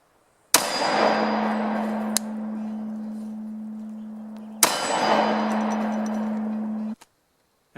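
Two sharp, loud gunshots from a .45 Auto pistol firing 200-grain +P rounds, each a sudden crack that rings out and slowly decays, spaced about four seconds apart.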